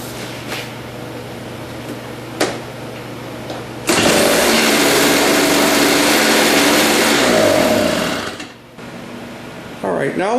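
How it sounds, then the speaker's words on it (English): A Toro CCR Powerlite snow blower under repair with carb cleaner in the carburetor, its small engine chugging steadily at first. It then roars up loudly for several seconds before dropping back and faltering, with someone speaking near the start. "now we got the engine to start"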